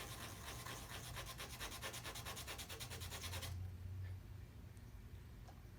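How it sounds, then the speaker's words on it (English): Balsa wood edge is sanded with quick, rhythmic back-and-forth rubbing strokes, close and fairly loud, stopping abruptly partway through and leaving faint ticks and quiet room noise. "you can choose instead to just snap it and sand off the edge"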